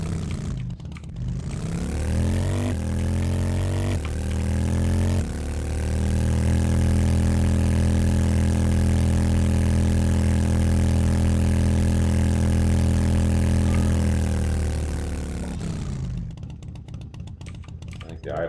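A vehicle engine in the video game 7 Days to Die idles with a loud, steady, deep rumble, its pitch stepping slightly near the start before settling into a long even drone that cuts off at the end.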